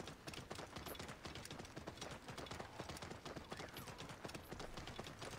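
Steady, rapid horse hoofbeats clip-clopping at a trot in the video game Assassin's Creed Origins, continuous and fairly close, with a busy background ambience and no talking.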